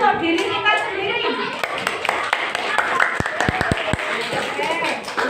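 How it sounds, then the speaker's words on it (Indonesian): A class of children claps for themselves, a short burst of sharp, scattered claps in the middle, with a teacher and children talking before and around it. "Tepuk tangan untuk diri kita sendiri"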